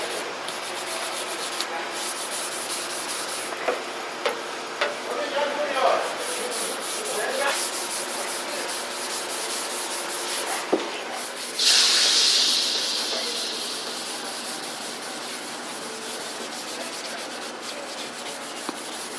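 Hand sanding on a car body during rust repair in an autobody shop, steady close rasping strokes with a few sharp knocks and a brief hissing burst midway.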